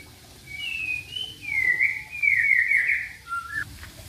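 A white-rumped shama, or murai batu, sings a run of bright whistled phrases and chirps. The song is clear and fairly close, with no voices over it.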